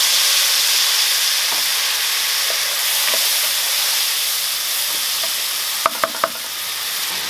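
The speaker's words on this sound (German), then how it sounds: "Lösche es mit Apfelessig ab." A pan sizzling loudly and steadily as it is deglazed with apple cider vinegar while the contents are stirred, a continuous close hiss broken by a few sharp clinks near the end.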